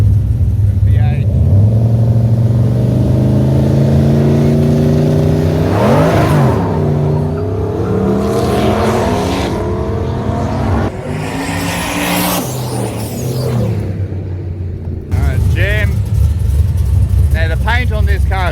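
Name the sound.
V8 drag car revving and doing a burnout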